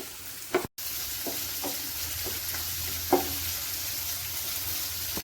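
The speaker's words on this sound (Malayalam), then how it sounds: "ചെറുതായി അരിഞ്ഞു വെച്ചിരിക്കുന്ന ചെറിയ ഉള്ളി ചേർത്ത് കൊടുത്ത് നന്നായിട്ടൊന്ന് വഴറ്റിയെടുക്കണം" Finely chopped shallots sauté for a tomato coconut chutney, a steady close sizzle broken by a few spoon taps and stirring scrapes, with a brief dropout near the start and no talking.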